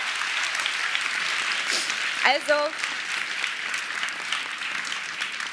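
A live-show audience applauds in a dense, continuous wash of clapping that lasts the whole stretch, with a brief voice speaking partway through.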